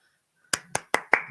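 Five sharp hand claps in a steady, fairly quick rhythm, close and crisp against a quiet background.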